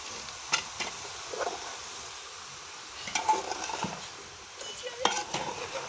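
Potatoes, peas and cauliflower sizzle softly in a pan while a spoon stirs and scrapes in scattered strokes against the metal, close by and fairly quiet.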